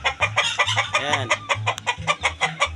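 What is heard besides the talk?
chickens clucking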